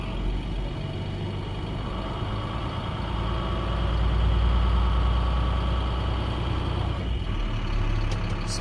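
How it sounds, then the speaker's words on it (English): A truck engine runs loud and close during a CDL air brake check, idling and then rising in a steady rev against the held parking brake before easing back. "I'm going to accelerate between 10 and 1500 and pull gently against the parking brake."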